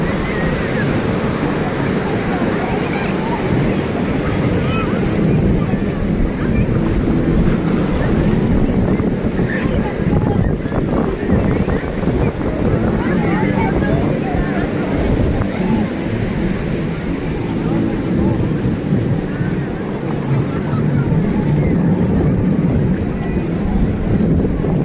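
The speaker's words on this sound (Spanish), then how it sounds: "El oleaje está bonito, amigos." Ocean surf rolls onto a beach amid strong wind buffeting the microphone, a loud, continuous roar of breaking waves with no clear pauses between them.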